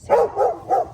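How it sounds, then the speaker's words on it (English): A dog barks three times in a quick, evenly spaced burst, loud and close, in a home garden setting while someone is potting plants. "sorry about the dog barking"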